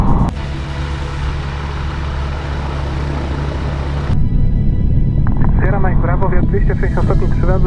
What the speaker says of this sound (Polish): odladzamy samolot śmigłem